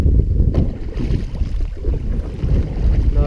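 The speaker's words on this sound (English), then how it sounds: "I'm gonna paddle forward" Canoe paddling on the River Wye, steady water swish and splashing from the strokes close by, under heavy wind rumble on the microphone with no talking.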